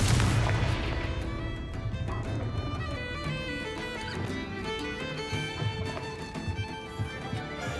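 Explosive Confringo spell cast in the Hogwarts Legacy video game, a loud booming blast that rolls into a dense, sustained rumble of game effects and music with no voice over it.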